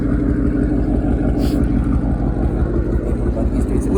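A car engine runs at a steady idle while being checked for a misfire, giving a continuous, close, even rumble with no breaks.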